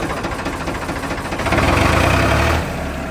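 A tractor engine runs steadily at close range with a rough, throbbing idle that swells louder and deeper midway before easing back slightly.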